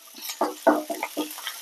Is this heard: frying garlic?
yes